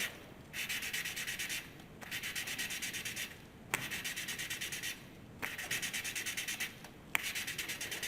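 The exhaust valve of a Simplicity 560 engine is lapped by hand with grinding compound, giving a steady close gritty rubbing in repeated bursts, each broken by a brief pause and a sharp tap as the tool is lifted and set down again.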